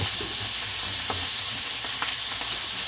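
Mango coconut salmon fillets fry in a pan after a splash of lime juice, giving a steady close sizzling hiss with a few small pops and stirring knocks, with no talking.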